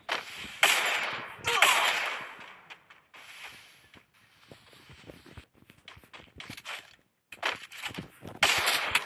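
Video game gunfire in bursts, with loud rattling volleys at the start and end and scattered shots and clatter in the quieter middle.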